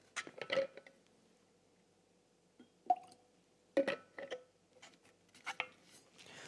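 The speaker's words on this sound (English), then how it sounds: "I'm gonna add a little water" Water poured into a glass of whisky: a series of soft, close drips, splashes and small clinks against the glass, spaced out irregularly over quiet silence.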